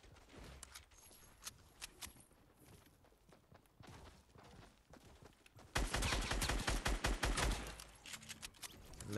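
Video game gunfire: scattered sharp cracks at first, then dense, rapid automatic bursts that get much louder toward the end. The shots are distant and faint at the start and close and heavy later on.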